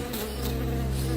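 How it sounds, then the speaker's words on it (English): Bees buzz in a cartoon story, a loud, close, continuous drone holding steady with no voices. "Instead of gold and silver coins, there were bees and bats inside."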